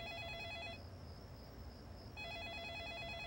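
A telephone rings in a French drama, its electronic warbling tone sounding in two bursts separated by a pause, fairly faint over a soft background hum.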